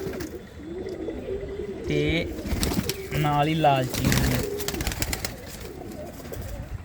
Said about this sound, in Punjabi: ਆਹ ਦੇਖੋ ਇੱਕ ਚਿੱਟੀ ਕਬੂਤਰੀ ਪਿੱਛੇ ਬੈਠੀ ਆ